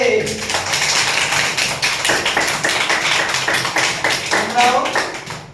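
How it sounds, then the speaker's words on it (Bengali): Schoolchildren clapping loudly for classmates with regular attendance, a dense rapid burst of many hands applauding close by, with a voice speaking over it. "সকলের জন্য এক জোরে হাততালি হয়ে যাবে"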